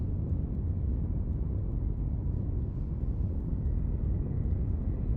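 A spaceship engine in the game Dual Universe throttles up in an asteroid field, producing a steady, loud, low roaring rumble that holds evenly throughout with no other sounds.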